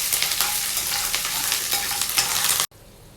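A tempering of peanuts, curry leaves and red chilli frying in hot oil for lemon rice, a loud dense sizzle with stirring scrapes running steadily, then cutting off abruptly near the end.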